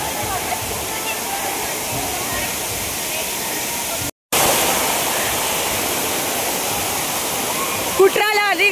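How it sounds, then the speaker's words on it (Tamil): Broad, steady roar of a water park waterfall resembling Courtallam falls on a day outing in Bangalore, loud and continuous with a brief dropout midway and voices faintly mixed in near the end. "குற்றால அருவி மாதிரி இருக்கு பாருங்க ஃப்ரெண்ட்ஸ்"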